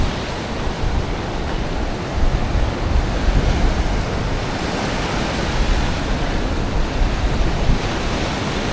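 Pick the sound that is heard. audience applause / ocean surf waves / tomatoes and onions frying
ocean surf waves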